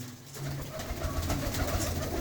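A white racing pigeon coos in low, rounded calls that carry steadily and close by over a faint background hum, with no voices.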